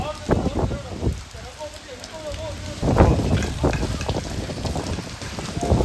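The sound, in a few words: light rain with strong wind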